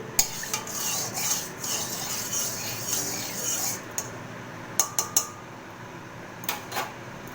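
A wok heating on a stove with mustard oil spread around it, soft scraping and stirring metal sounds with a few sharp clinks of a utensil against the pan, fairly quiet and close.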